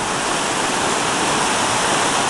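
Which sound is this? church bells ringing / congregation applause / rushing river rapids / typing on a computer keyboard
rushing river rapids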